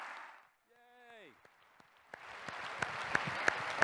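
Applause from a corporate audience after a staff talk, starting faint and scattered after a brief tonal sound, then building into steady clapping with a few sharper nearby claps, while a voice talks over the start.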